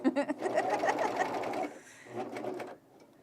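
A sewing machine stitches men's pants in a close, steady mechanical run for about a second and a half, then a pause and a shorter burst, with faint room sound between.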